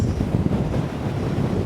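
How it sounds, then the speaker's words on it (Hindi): Strong wind on a hillside overlooking a lake at Castle Hill, roaring steadily and buffeting the microphone with a dense, low rumble throughout. No voices. "बहुत तेज़ हवा है"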